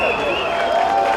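A rally crowd applauds and cheers for Jimna, a Nairobi governor candidate, in a dense, loud burst of clapping and shouting, with voices mixed in.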